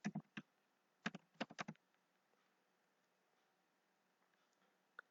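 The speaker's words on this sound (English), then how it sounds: "I'm going to type Taylor and Francis" Quiet bursts of computer keyboard typing, a quick cluster of keystrokes at the start and another around one second in, then near silence with one last isolated click.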